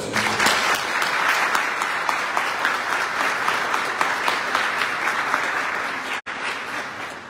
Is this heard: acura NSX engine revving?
no